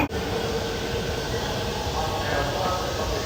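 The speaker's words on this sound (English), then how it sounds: "So, next train's arriving." A train pulling into a station in Japan, a loud steady rumble and rushing roar filling the whole stretch after a short start, with no clear voices above it.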